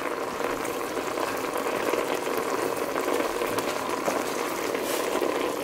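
Ground turkey and onion sizzle steadily in a frying pan, a continuous close crackling hiss at even loudness throughout, with no talking.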